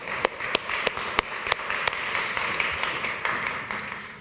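An audience at a talk applauds for Alejandro: sharp individual claps ring out in a loose, uneven rhythm over a softer layer of scattered clapping from the room, with no speech.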